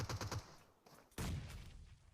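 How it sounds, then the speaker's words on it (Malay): Rapid bursts of G36C assault rifle fire from a PUBG Mobile match on the Vikendi map, a short volley then a longer sustained stream of shots, dense and crackling with no talk over it. "Mat Toy tembakan G36C untuk mempertahankan kawasan mereka"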